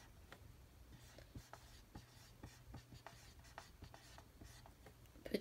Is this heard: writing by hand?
yes